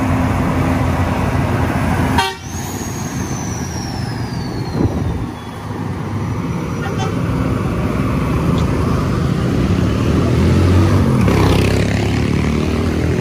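A Family Raya bus passes on the Sitinjau Lauik mountain road, giving a loud toot on its horn followed by a steady engine and road roar, with a second horn-like blast near the end.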